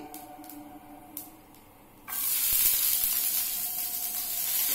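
Dried red chillies dropped into hot oil after nigella seeds and chopped garlic, a quiet stretch of faint clicks then a sudden, sustained loud hissing splutter that carries on to the end.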